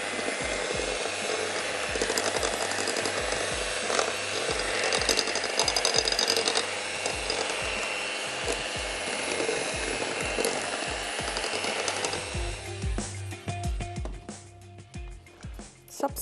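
An electric hand mixer runs at low speed through orange cake batter, giving a close, continuous mechanical whir with rattling, clicking gear texture that thins out and becomes choppier toward the end.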